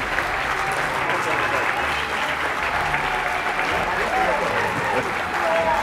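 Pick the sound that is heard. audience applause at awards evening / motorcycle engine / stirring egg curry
audience applause at awards evening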